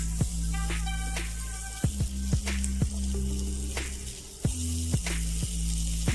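Chopped tomatoes and onions sizzle steadily in hot oil in a pan for a Tamil country chicken curry, a continuous close frying hiss with occasional sharp clicks and taps from the pan.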